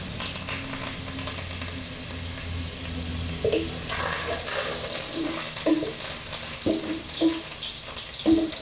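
Sliced onion and curry leaves fry in ghee in a pan, a steady sizzle with occasional soft clinks of a utensil against the pan, close and moderately quiet, with no talking.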